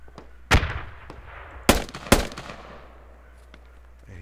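Gunfire in the military shooter Squad: three sharp, loud reports ring out, the first alone and the next two close together, followed by faint distant pops and a quiet tail.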